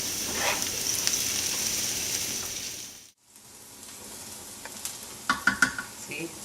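Garlic fries with onions in a pan for pizza sauce, a steady close sizzle that breaks off briefly, then returns with a few sharper stirring clacks and crackles.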